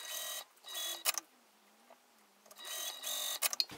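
A sewing machine top-stitches down the long edges of a wristlet connector in two quick bursts of close, steady mechanical whirring, separated by a quiet pause.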